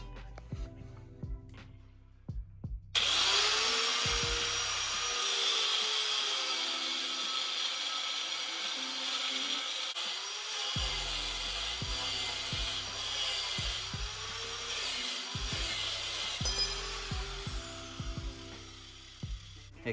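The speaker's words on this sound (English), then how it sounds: "I gotta finish cutting this to length" A saw cuts a metal shift linkage rod to length for a Honda, a steady rasping stroke that runs close and loud for most of the clip after a few quiet knocks at the start.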